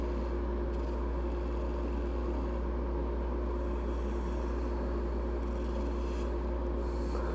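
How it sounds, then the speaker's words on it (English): A woodturning lathe cuts a tenon into a resin blank held in a chuck, giving a steady, loud grinding hum with constant scraping throughout and no pauses or talk. "I'm going to put a little bit of a tenon on it real quick"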